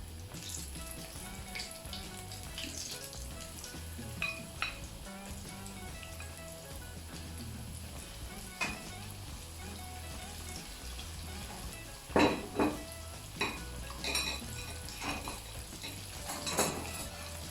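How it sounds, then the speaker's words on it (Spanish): Chicken wings fry in fairly hot olive oil in a pan, a steady close crackle running throughout, with sharp metallic clinks of utensils against the pan punctuating the last few seconds. "Nos vamos con la cámara a la sartén. Aceite bastante caliente, pero sin quemarlo"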